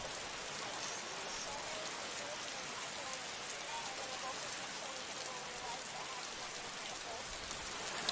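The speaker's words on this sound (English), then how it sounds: "It's raining, isn't it?" Steady rain falling, a dense even hiss of many drops hitting surfaces that holds through the whole stretch, fairly quiet and with no one speaking over it.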